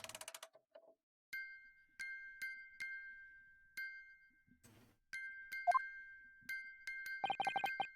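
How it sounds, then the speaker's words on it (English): Bright metallic chimes from a music box in the video game The Great Ace Attorney ring out as sparse, separate dings with short pauses, then a quick run of tinkling notes near the end, soft and with no voices. "Just because this is a music box, it doesn't necessarily mean the sounds we're hearing are music."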